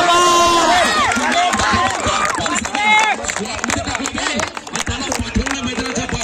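Loud crowd at a cricket tournament final cheering and shouting near the field, dense continuous roar with a commentator talking over it.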